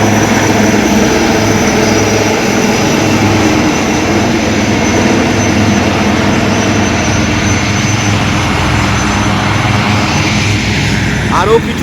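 Two army helicopters lift off from Kolkata's Brigade Parade Ground during a military drill, a loud constant engine roar and rotor drone filling the whole stretch without letup, close and dominant.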